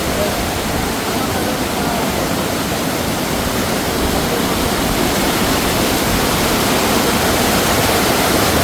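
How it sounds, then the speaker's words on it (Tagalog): A waterfall gives a loud, constant rush of churning water that stays even and close throughout, masking everything else. "Sobrang lakas ng tubig, guys."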